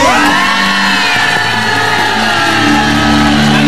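A large crowd shouts and cheers loudly and continuously at a public event, a dense wall of voices with whoops rising from the mass.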